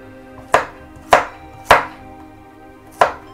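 Knife chopping garlic on a cutting board, four sharp distinct thuds at uneven intervals, close and clear with quiet pauses between.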